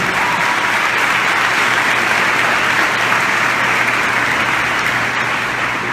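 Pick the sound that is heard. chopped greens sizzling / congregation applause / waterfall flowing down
congregation applause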